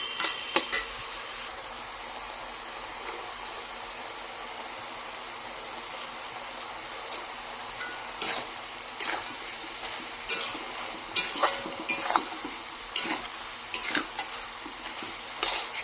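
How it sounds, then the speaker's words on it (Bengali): Steady sizzle of spices frying in a pan, with a run of scraping, clattering stirs growing busier in the second half. No talking. "মশলাটা মোটামুটি আমার ভাজা ভাজা হয়ে এসছে"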